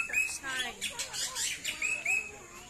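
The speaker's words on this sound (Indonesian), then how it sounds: "koksai jambul putih" A white-crested laughingthrush at a bird park calls with a few clear, high whistled notes and chirps over a busy background of other birds and ambient noise.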